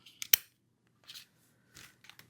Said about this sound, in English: Let me get these littler scissors. All I need to do is just trim a little bitty bit off.